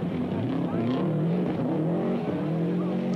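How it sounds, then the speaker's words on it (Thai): A rally car sliding out of control and recovering onto a dusty dirt stage at a 1996 rally in Phrae, Thailand, its engine roaring and revving over tire scrub, heard close and loud. "ทำรถให้เสียหลักครับแล้วกลับเข้าสู่เส้นทางฝุ่นตลบนะครับ"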